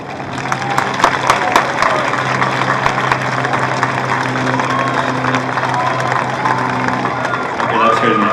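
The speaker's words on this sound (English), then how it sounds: "Why did you guys stop clapping?" Audience at a high school commencement ceremony claps and cheers steadily throughout, a dense, loud wash of applause with crowd noise and some shouts, briefly swelling near the end.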